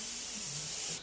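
Airbrush spraying paint onto a Tamiya 1/32 F-16 model kit, a steady close hiss of air and paint that runs continuously and cuts off abruptly at the end.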